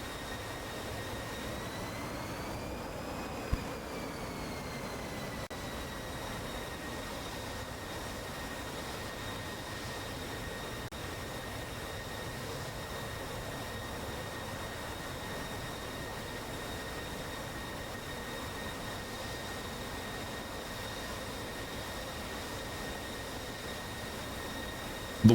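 An aircraft comes in to land in a flight simulation game, giving a steady, even jet-engine drone throughout. Its whine bends briefly in pitch early on, and a faint click sounds near the start.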